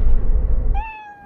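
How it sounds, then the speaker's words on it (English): A house cat gives a single short, clear meow close by in a dark room, following a burst of low rumbling game noise. "my cat came in the room"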